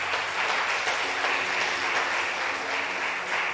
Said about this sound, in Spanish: Levante un aplauso fuerte al Señor.